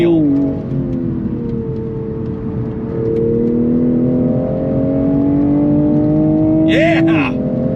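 A 2022 Toyota Supra 3.0 accelerates hard, its engine note climbing steadily and dropping as the paddles shift through gears, loud and close from inside the cabin, with a person talking over it.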